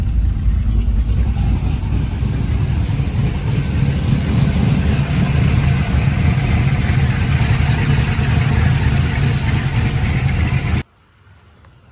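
LS-swapped Chevrolet S-10 pickup engine running at a steady idle, a loud, close, even low rumble for about eleven seconds that cuts off abruptly near the end.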